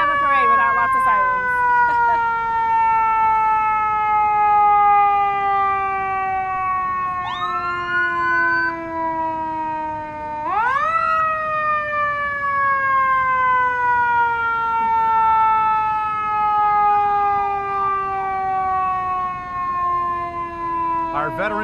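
Loud wailing sirens at a Veterans Day parade in Wichita rise and fall in long sweeping tones, several overlapping, with a sharp upward whoop midway, over a steady crowd-and-street hum.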